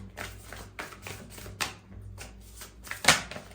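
Tarot cards being shuffled and drawn: soft, quick riffling taps and flicks of card stock, faint and close, with a sharper snap near the end and a low steady hum underneath.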